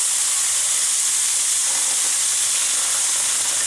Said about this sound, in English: I'm going to add some red wine in here